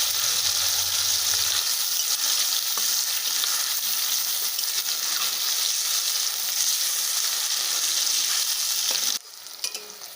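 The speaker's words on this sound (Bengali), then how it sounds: "পেঁয়াজটা হালকা ভেজে নেব।" Chopped onions frying lightly in a pan with a steady close sizzle for about nine seconds, with a few faint clinks before it drops off at the end.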